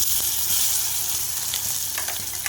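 Ground green chutney of pepper tomato greens (milagu thakkali keerai) hitting a hot tempering in a pan, a loud steady sizzle with a few sharp spatters toward the end, no voices.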